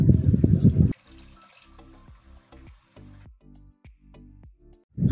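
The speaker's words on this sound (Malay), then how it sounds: "Tambah air untuk kuahnya." Water poured into a pan for chicken coconut-milk gravy (ayam tumis bersantan), with a short loud pour at the start followed by quieter drips and trickles, close by.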